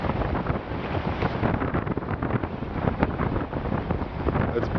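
Strong wind of about 20 mph roars and buffets across the microphone aboard a fishing boat on San Francisco Bay, a steady, loud gusting rush with no talk over it.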